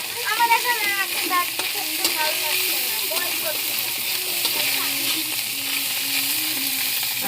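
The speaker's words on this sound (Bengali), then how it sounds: "ছোট ছোট মাছ ভাজছি।" Small fish frying in a pan with potatoes and onion for a Bengali home meal, a continuous close sizzle under occasional background voices and stirring.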